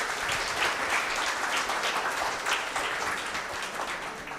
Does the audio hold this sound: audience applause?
yes